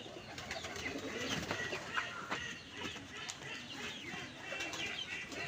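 Pigeons give soft, low cooing calls and faint wing flutters, fairly quiet and continuous against an outdoor background.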